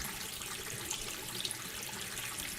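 Bathroom tap running steadily, a continuous soft hiss of flowing water with faint spattering, unbroken and fairly quiet throughout.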